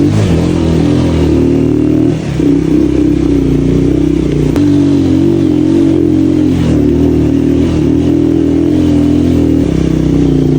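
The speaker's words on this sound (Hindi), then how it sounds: "इस बाइक का जो वॉल्यूम है ना वो थोड़ा ज़्यादा है, तो साउंड इसका ज़्यादा आ रहा है" A motorcycle engine with a loud exhaust runs loudly and steadily close by in Neelum Valley, a constant throbbing drone with slight rises in revs and a brief dip.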